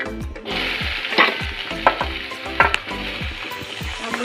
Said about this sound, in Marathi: कांदा भाजायला थोडंसं तेल टाकायचं.